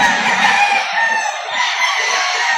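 Chickens and a rooster at a busy poultry market in Lipa City, Batangas, with a steady dense chorus of crowing and clucking from many birds close by.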